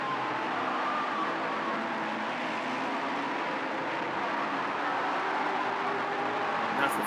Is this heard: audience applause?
no